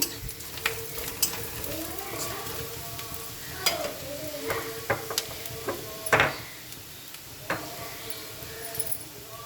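Ground turmeric, red chilli, cumin and coriander powders sizzle in a frying pan as a spoon stirs and scrapes repeatedly, giving soft frying hiss under irregular clinks and knocks; a voice speaks intermittently.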